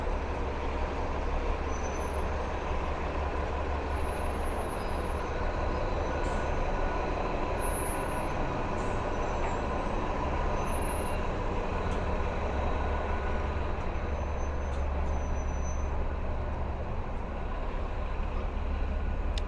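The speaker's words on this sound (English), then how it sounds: "Looks like the buses are backed up here." Traffic rumbles without pause on a busy Brooklyn street on Avenue U as city buses sit backed up, a loud, steady engine drone with occasional high brake squeals and hisses over it and no talk.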